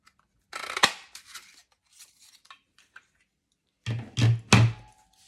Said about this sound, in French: Moi, j'utilise donc cette perforatrice-ci.